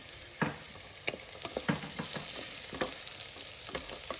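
Garlic sizzles steadily in a hot pan for Aagri-style mutton, a continuous crackling fry punctuated by sharp spoon scrapes and taps at irregular intervals, close and moderately loud with no talking.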